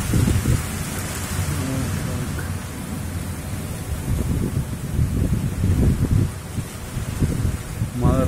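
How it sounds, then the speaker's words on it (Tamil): Heavy rain with thunder and strong wind in a storm: a dense, loud rush of rainfall with low rumbling thunder swelling and fading, continuous throughout with no voices. "It's raining very heavily, with full of wind, பலத்த காத்தோடு வந்துட்டுருக்கு."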